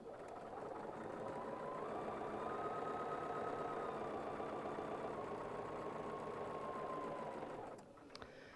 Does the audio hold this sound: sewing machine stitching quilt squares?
yes